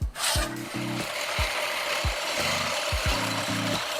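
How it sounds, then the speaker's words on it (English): Reel mower blades for a backyard golf green, five-blade and seven-blade reels, are sharpened with a repeated rasping scrape, each stroke ending in a low mechanical whir, in a close, even rhythm. "first thing I'm going to do before we go out, I'm just going to sharpen the blades a bit."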